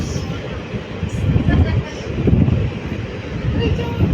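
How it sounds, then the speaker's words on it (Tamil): Strong wind buffeting the microphone during a train journey from Karur to Tirunelveli, a continuous loud low rumble with gusty swells, and a voice talking beneath it. "காற்று நல்லா அடிக்குதுங்க இந்த வெயிலுக்கு காற்று ஓர அடிக்குது"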